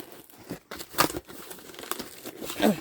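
Wrapping paper crumpled and torn by hand while a box of Roman Szmal Aquarius watercolor paints is unpacked, close-up crinkling bursts at an uneven pace with no talk.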